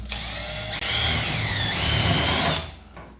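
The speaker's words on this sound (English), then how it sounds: "We are pre-drilling holes." Power drill pre-drilling holes for a custom dash in a dirt late model racecar, one sustained whirring run of about two seconds after a brief start, close and clear, then winding down to quiet.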